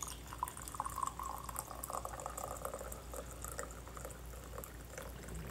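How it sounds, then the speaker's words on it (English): Coffee pours steadily into a cup at close range, a soft continuous liquid trickle lasting several seconds with no talk over it. "First things first, pour me some coffee here."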